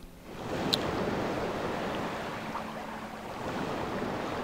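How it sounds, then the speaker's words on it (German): Water flowing into a desert in the ParaWorld strategy game, a steady soft rushing wash with no voices, fairly faint and even throughout. "Wasser in Wüste. Wir haben es geschafft."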